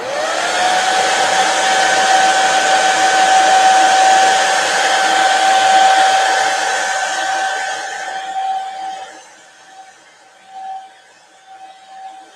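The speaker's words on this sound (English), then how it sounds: "Okay, let's dry that." A hair dryer blowing on freshly stenciled paint on a Mylar stencil, a loud steady whine and rush for several seconds that then cuts off, leaving faint sputters.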